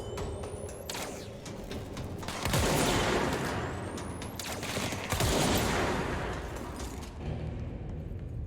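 Gunshots in a quick fusillade, with two strong bursts of blasts and rattling fire over a continuous noisy background.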